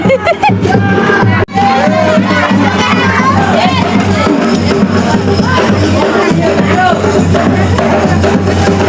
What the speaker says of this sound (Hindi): भयंकर भीड़ है दादा हमारे हर गली है